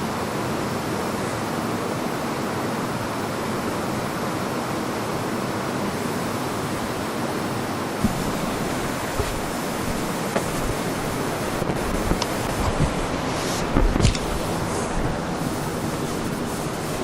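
Steady rushing water below Burleigh Falls, Ontario, roars as a dense, constant wash of noise, close and unbroken, with a few faint knocks and thumps late on.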